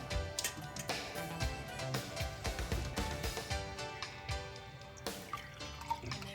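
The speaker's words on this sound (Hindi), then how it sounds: "अब मैं इसे गिलास में सर्व करने के लिए डाल दूँगी" Homemade red pomegranate juice, already strained, is poured into a serving glass as a soft, steady liquid trickle with faint drips and small ticks. It is quiet and close, with no talking.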